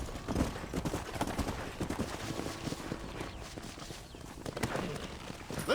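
Horse hooves clip-clop on the ground in the western video game Red Dead Redemption, a steady rhythmic trotting held at moderate loudness with gunfire-like cracks and ambient noise mixed in.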